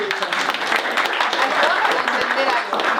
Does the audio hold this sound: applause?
yes